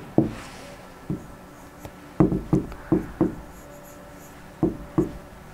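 Marker or chalk writing on a board during an Arabic grammar lesson: a series of short taps and scratchy strokes in irregular clusters, close and fairly quiet, with no talking.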